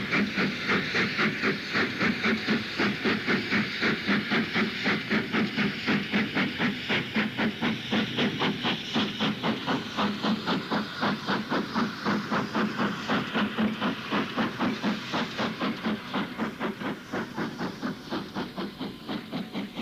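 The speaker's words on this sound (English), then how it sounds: "As 4683 departs round the curve towards Seacombe" Ex-GWR Pannier tank steam locomotive 4683, hauling five coaches, pulls away round a curve with rapid, rhythmic exhaust chuffs that stay loud and close over a hissing background before easing slightly at the end.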